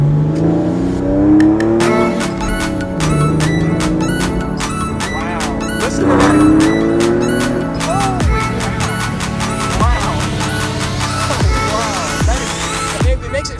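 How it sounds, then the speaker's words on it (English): A 2002 Porsche 911 Carrera's exhaust roars loudly and continuously, revving up and down through the gears with sharp rising whines and crackles, close by. "So much faster from the exhaust note."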